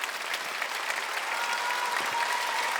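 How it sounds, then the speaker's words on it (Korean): A church congregation applauds during a Wednesday worship service, dense steady clapping from many hands, moderately loud and continuous throughout. "하나님께 박수겠습니다."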